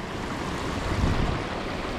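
Moving water in a clear creek used for bass fishing, a steady broadband rush close to the microphone that swells slightly midway and carries no voices.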